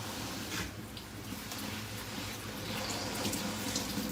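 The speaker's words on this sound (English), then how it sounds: "Look at all that water come out." Water draining out of a Giantex mini portable washer, a steady close rush and trickle of pouring water that runs on without a break and carries no talk.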